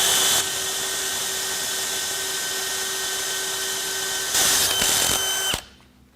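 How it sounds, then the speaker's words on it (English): A power drill fitted with a Champion jobber bit whines steadily and loudly, briefly louder and harsher near the end as the bit works through the material, then quickly winds down and stops. "So now I've drilled that one"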